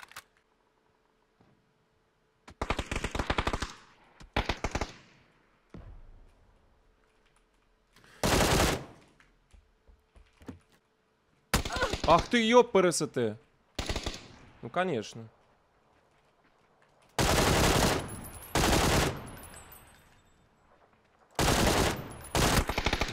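Gunfire in the video game PUBG comes in several short loud bursts and single shots spaced through the stretch, separated by quiet gaps, with someone speaking briefly between them.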